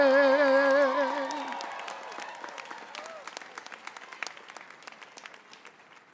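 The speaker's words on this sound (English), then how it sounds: "Another round of applause for our vocational vocalists today" Audience applause at a commencement ceremony, loud and dense at first as a sung piece fades out, then thinning to scattered individual claps that taper off.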